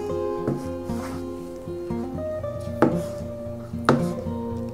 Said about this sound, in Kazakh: Енді міне жұмыртқанда да осындай үлкен қылып тураймыз.